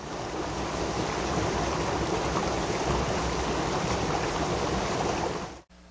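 A water ionizer processing water gives a steady loud rushing hiss of flowing water, unchanging for several seconds before cutting off abruptly near the end.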